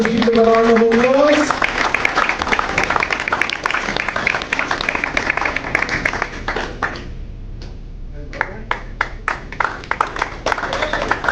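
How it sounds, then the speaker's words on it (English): Graduation audience applauding and cheering, a dense crowd sound with vocal whoops at the start, thinning to scattered claps toward the end. "Let's give them a round of applause."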